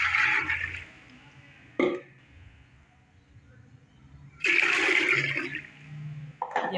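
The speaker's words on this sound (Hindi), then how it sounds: "इसके अंदर मैं पानी डाल दूँगी।" Water poured into a pressure cooker while making a meat soup: two splashing gushes, each lasting about a second, separated by a quiet pause, with a short clatter in between.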